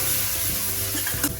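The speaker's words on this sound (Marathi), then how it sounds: "आता हे चांगलं आपण तेलामध्ये भाजून" Ground masala with asafoetida and turmeric frying in hot oil for a spicy udid dal amti, a steady close sizzle with soft stirring scrapes and no talk over it.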